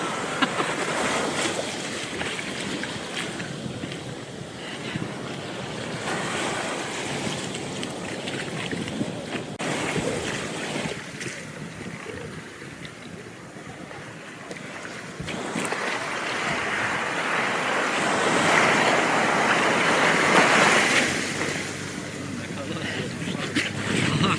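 Ocean surf rolls and crashes continuously in Istanbul, with wind and splashing water, while surfers shout and talk in Turkish over the waves.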